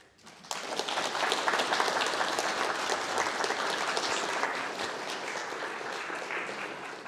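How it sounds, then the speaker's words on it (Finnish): Audience applauding after a festive speech, a sudden swell of dense clapping that stays strong and steady, easing only slightly toward the end. "Lämmin kiitos ja vielä kerran aplodit Antilille."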